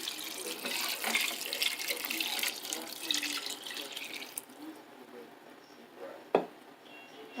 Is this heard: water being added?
yes